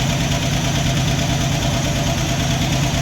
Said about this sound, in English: It's got a little bit of a stutter to it. You can hear, you can hear some clickety clacking from lifters.